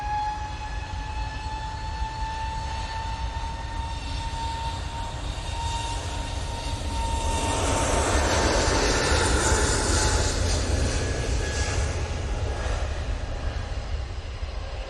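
An airliner departs Manchester Airport for Copenhagen with a steady, rumbling jet roar and a faint engine whine, swelling somewhat louder midway and then easing off, with no voices.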